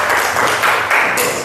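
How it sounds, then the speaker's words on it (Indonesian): Students in a school classroom applaud together, a dense, steady patter of many hands clapping close by for about a second and a half, with no voices over it. "tepuk tangan untuk kita semuanya"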